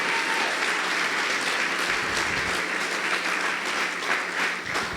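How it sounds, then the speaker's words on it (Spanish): Congregation at a Spanish-language church service breaks into sustained, dense applause from many hands, loud and continuous throughout with no break. "Dele un aplauso a Jesús"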